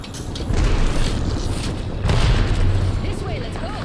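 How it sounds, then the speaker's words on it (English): A grenade explodes amid chaotic Apex Legends gunfight, a loud booming burst around two seconds in over continuous dense battle noise and low rumble. "holy Grenade."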